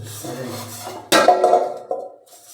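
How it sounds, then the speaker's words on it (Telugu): Pots and dishes being scrubbed and rinsed at home, with a loud sudden metallic clatter midway followed by rubbing and scraping, close by, and no one speaking. "అన్నం కోసం గిన్నెలు తొమ్ముకుంటున్నా"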